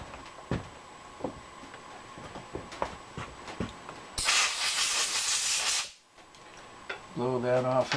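Compressed air blasts debris off a metal workpiece in a machine shop: a loud hiss of about two seconds cuts in after faint clicks and handling noises, then stops, and voices follow.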